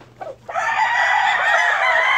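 Chicks cluck and crow close by, a quick chirp followed by a loud, sustained burst of fowl calls that continues to the end.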